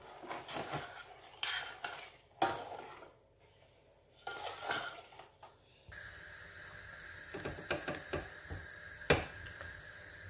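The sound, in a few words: stirring vanilla and brown sugar into water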